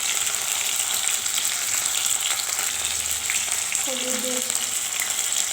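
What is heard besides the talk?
frying boiled rice with salt and turmeric in oil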